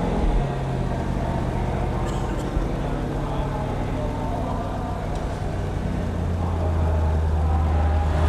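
A used car's engine starts and idles at a car auction, a steady low rumble running throughout with outdoor crowd noise around it and faint voices nearby.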